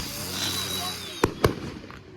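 Fourth of July fireworks crackle and hiss in a steady outdoor roar, with two sharp loud pops close together near the end, as people talk nearby.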